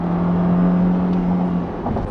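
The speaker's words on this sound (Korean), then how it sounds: "엔진 사운드도 아주 꽉 차게 들리죠" Porsche Panamera 4S engine revving on a light throttle blip, a full, steady mid-low engine drone with a sustained tone that eases off near the end, close and loud.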